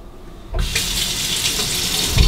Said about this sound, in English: I'll just temper this under the hot water.